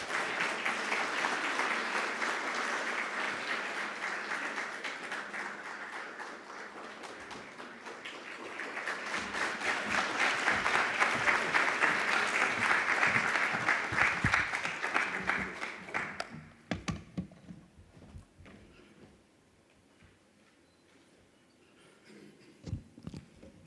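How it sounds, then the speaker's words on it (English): Warm, sustained round of applause for the Governor at a Namibian public-private forum, steady dense clapping that swells mid-way, then breaks off into a few scattered claps and quiet room noise. "Please give a warm round of applause to the Honorable Governor."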